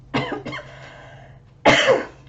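Two harsh coughs from one person, a short double cough at first and then a louder, longer one after a pause, close to the microphone.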